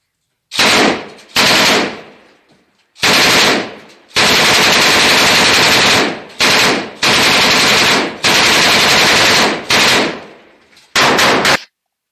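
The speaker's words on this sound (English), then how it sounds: "Looks like a light machine gunner there, actually, if I'm not mistaken." A light machine gun fires in Ukraine war footage: loud, close bursts of automatic fire, about eight of them, with short pauses and one long sustained volley in the middle.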